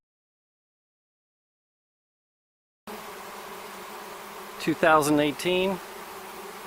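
Honey bees from a June swarm buzz in brief, close bursts of a second or so, rising out of near-silence after a quiet start.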